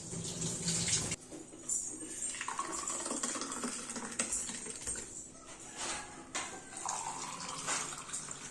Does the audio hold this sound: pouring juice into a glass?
yes